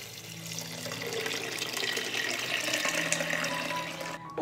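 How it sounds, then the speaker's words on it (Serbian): Two litres of clean water run into a pot of boiled beans, a steady close splashing flow like a tap filling the vessel, continuous and unbroken before stopping abruptly at the end. "Sipat ću 2 litre čiste vode."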